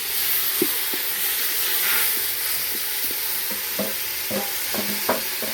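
Vegetables tipped into a hot frying pan in an African village kitchen in central Kenya, giving a steady broad sizzle under a run of clicking stirring strokes that speed up toward the end.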